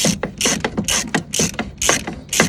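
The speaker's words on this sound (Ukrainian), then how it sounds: "Так через головку акуратно вбиваємо." A bolt is tapped in through a socket head while a tow bar is fitted to a Renault Grand Scenic, giving a rhythmic series of about eight sharp metallic knocks, close and fairly loud, with no talk.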